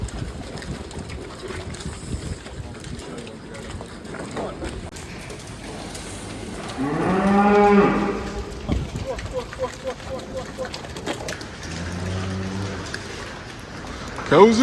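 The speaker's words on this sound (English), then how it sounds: "Cows in the shed." Cows in a newly built farm shed, with a long, deep moo rising over the background and a second shorter moo later, amid general barn noise and rustling.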